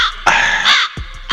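Crow sound effect with two loud, harsh caws close up, then softer clicks, played on its own without talk.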